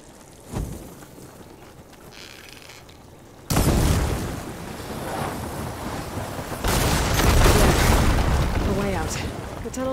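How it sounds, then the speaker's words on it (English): Fire-ammo barrels explode in Horizon Forbidden West, with a sudden loud blast at about three and a half seconds and another surge near seven seconds, each leaving a rumbling roar amid game noise and speech. "Barrels with fire ammo should do the trick."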